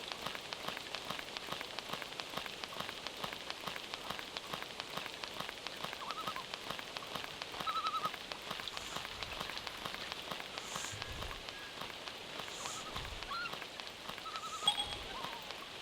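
Steady rain in a video game patters continuously on a surface, with occasional heavier drops and faint background rustling.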